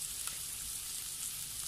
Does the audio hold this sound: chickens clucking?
no